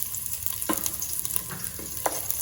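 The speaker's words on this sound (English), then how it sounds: "So we are sauteing onion in about 2 tablespoons of oil" Sliced small onion sautéing in about two tablespoons of hot oil in a pan, a steady soft sizzle broken by a few sharp clinks and scrapes of a stirring utensil, close and moderately quiet.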